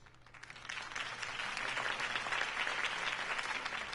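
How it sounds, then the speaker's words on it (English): Crowd applause follows a campaign speech in a Batman Telltale video game scene, a dense clapping that swells and holds steady at a moderate level throughout. "If only Mr. Wayne, my campaign's largest backer, could have heard that applause"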